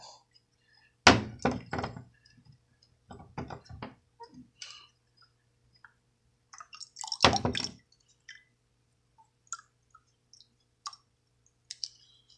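Water squeezed from a soaked rockwool cube: quiet wet squishes and clusters of dripping clicks, with a couple of louder bursts and scattered faint drops between long silences.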